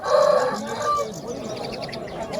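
Rooster crowing at a Tashkent poultry market, one fairly close crow at the start, followed by clucking and busy market background with voices.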